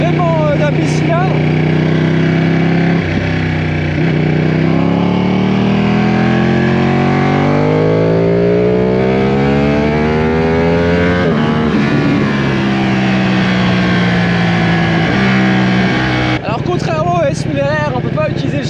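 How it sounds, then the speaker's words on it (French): Ducati Panigale V-twin motorcycle with a quickshifter, revving loudly on an open road with rising and falling engine pitch and quick shifts between gears, while a rider talks over it throughout. "On a un bruit vraiment d'un bicylindre."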